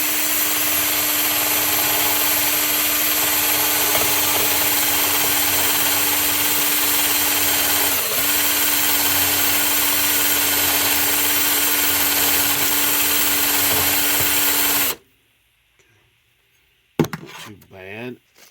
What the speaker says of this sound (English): I've got the bolt chucked up in the drill